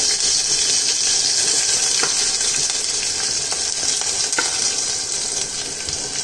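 Mustard seeds and cumin splutter in two spoons of hot oil for a chutney, giving a steady, dense sizzling hiss with scattered sharp pops throughout, close by and with no talking.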